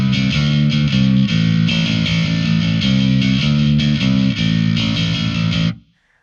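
A heavily distorted bass guitar through a Darkglass Anagram plays a loud, driving riff of fuzzy, sustained notes, then cuts off and fades to silence.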